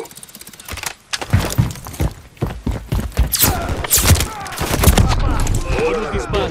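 Rapid bursts of gunfire in the Modern Warfare 3 campaign, sharp repeated shots in clusters, loud and close, with some speech-like sounds mixed in.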